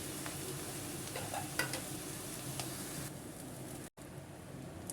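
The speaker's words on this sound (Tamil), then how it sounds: "சிக்கனை சேர்த்து உனக்கு நல்லா கலந்து விட்டுக்கலாம்." Chicken fried in a pan with pepper, chili powder and garam masala gives a faint, steady sizzle, with occasional soft scrapes of stirring over a quiet kitchen background.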